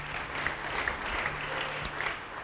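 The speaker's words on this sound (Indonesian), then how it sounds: "Beri tepuk tangan bagi dia." Church congregation clapping after a sermon passage, a steady wash of hands with a faint hum underneath, continuing throughout at moderate level.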